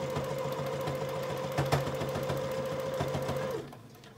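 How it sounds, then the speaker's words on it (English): A sewing machine runs steadily, stitching down the waistband of a child's apron for about three and a half seconds before stopping abruptly, with a fast even mechanical whirr and rhythmic needle clatter close by. "So you are going to sew all the way down."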